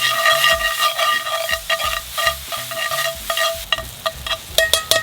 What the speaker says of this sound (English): Stir it in with those tongs.